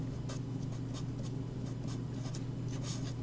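Chalk or marker strokes of handwritten math equations on a board, a run of short, close scratchy strokes over a steady low room hum.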